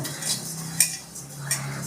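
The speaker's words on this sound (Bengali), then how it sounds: "দিচ্ছি কিছু রাঁধুনি কিছু মৌরি আমি এটাকে ভালো করে একটু শুকনো খোলা ভেজে নেব" Radhuni and fennel seeds are dry-roasted in a pan. Three or so light metal scrapes and stirs sound up close over a quiet low hum, with no talking.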